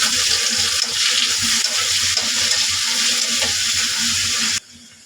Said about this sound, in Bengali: রসুন কাঁচামরিচ তেলে ভাজা হয়ে গেছে।